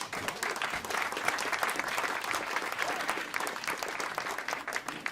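An audience claps steadily throughout at a stage event introducing a national anthem performance, a continuous, even wash of many hands without any talk over it, at moderate loudness.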